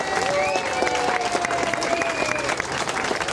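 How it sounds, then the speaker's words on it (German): Outdoor crowd applause for a speaker at a basic-income rally in Berlin, with a dense patter of clapping and crowd noise and faint voices or tonal sounds running underneath. "Applaus und ich übergebe."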